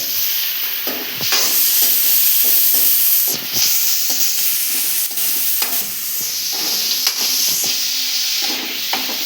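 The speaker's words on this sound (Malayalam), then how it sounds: "അപ്പോൾ നമ്മുടെ ഉള്ളി ഇവിടെ പയ്യെ വാടി വരുന്നേ ഉള്ളൂ." Onions, crushed ginger, green chillies and curry leaves sauté in a hot pan with a steady bright sizzle, broken by repeated scraping stirs of a spatula close up, with no voices.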